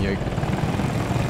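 Rotor and engine drone of a KA-520 Super Hokum attack helicopter in Battlefield 2042, a low, steady thrum heard up close over a brief moment with players' chatter alongside.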